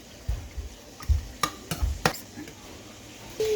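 Sugar being stirred into Thai-style pasta in a pan, giving a handful of sharp scraping clinks of a utensil against the pan at irregular intervals over a faint background, close and fairly quiet.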